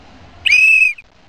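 A single shrill whistle blast, loud and close, held steady for about half a second against a quiet background.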